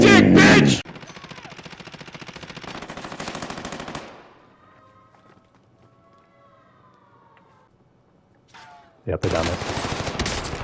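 Rapid automatic gunfire rattles loudly in a Rainbow 6 shooter match, then fades to quieter game ambience with a brief spoken line before heavy bursts of shooting return close up.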